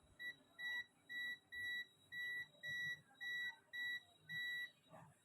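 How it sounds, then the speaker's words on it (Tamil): A multimeter on continuity test beeps while its probes touch a capacitor on a Lenovo ThinkPad laptop board that will not power on, giving about nine evenly spaced electronic tones in a steady rhythm, close but faint, alongside soft handling noise. "இந்த பக்கம் பீப் சவுண்ட் இருக்குது"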